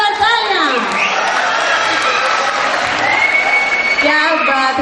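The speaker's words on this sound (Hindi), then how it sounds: "जोरदार तालियां" A crowd at a live music night applauds and cheers for a singer, dense continuous clapping mixed with shouts and whistles, loud and filling the space for the whole stretch.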